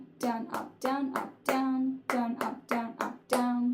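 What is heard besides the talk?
hand clapping a rhythm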